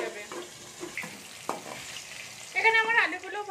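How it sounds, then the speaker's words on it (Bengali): Potatoes frying in oil in a covered pan, a soft steady sizzle with scattered stirring clatters and a brief brighter burst near the end. "আলুগুলো ভালো করে ভেজে নেবো"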